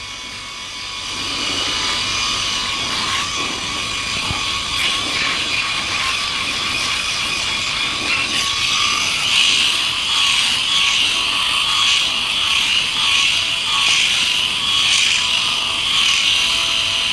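A Philips i9000 Ultra electric shaver shaves a man's head, a steady loud buzzing whir that holds on for the whole stretch and shifts slightly as the head moves across the scalp, no talking.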